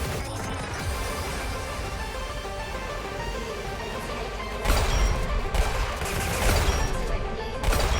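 Shotgun fire in the Roblox shooter Weird Gun Game: a few heavy blasts land in the second half over steady game noise, with a sharp cluster near the end.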